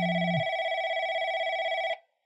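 An electronic telephone ring sounds in the video game Replica, a loud steady trilling tone. It cuts off abruptly after about two seconds, and no one speaks.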